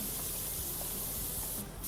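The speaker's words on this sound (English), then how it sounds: "If anything, I want the wider spray like this." A wide-fan pressure washer sprays steadily in PowerWash Simulator, a continuous loud hiss of water with no break and no talk.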